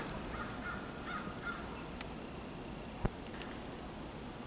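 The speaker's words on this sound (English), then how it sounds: "Every once in a while I can hear the sound of a bird." A distant crow caws a few times, faint and hoarse, in a snowy forest over quiet still air with a single sharp click partway through.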